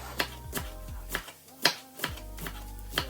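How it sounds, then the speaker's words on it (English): A knife chops vegetables for Ukrainian borscht on a cutting board: about eight sharp, close, distinct chops at an uneven pace, with no talking. "but more chopping is needed."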